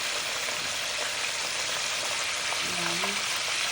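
Chicken sizzles steadily in hot oil, a continuous close crackling hiss that holds even throughout, with a few faint voice sounds underneath.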